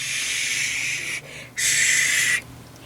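Steam iron held above a knitted lace shawl on an ironing board, giving two close, loud bursts of hissing steam separated by a brief pause, with quiet room noise beneath and no talking.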